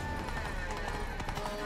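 Hooves of a horse ridden in The Witcher 3: Blood and Wine clip-clop in a steady running rhythm, fairly close, with game voices and ambience underneath.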